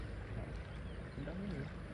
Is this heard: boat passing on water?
yes